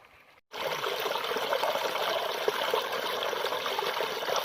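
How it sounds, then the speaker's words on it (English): Water flows steadily from a stream near Lawaghar Dam, a continuous broadband rushing that starts abruptly after a brief quiet moment and stays even and close throughout, with no talking. "The flow of water from the stream is amazing."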